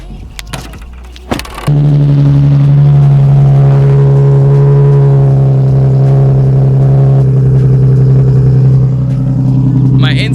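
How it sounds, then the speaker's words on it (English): A Nissan 370Z sports car engine cold-starts, cranking and bursting into a loud, steady, rumbling idle that stays close and constant after a few seconds of faint knocks. "My insides shake every cold start. That's so loud."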